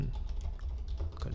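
A quick run of soft keystrokes on a computer keyboard while entering a group name in ComfyUI software; light, close clicks over a quiet background, lasting just over a second.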